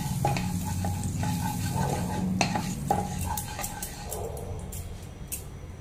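Butter sizzles in a hot pan with a soft, steady frying hiss, and utensils scrape and clink against the pan now and then, with no talking.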